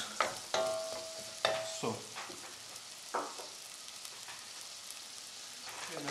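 Garlic and shallots softening in a pan over medium heat, a low steady sizzle with intermittent stirring clatters and scrapes from a utensil, close by, with a brief word of speech near the start.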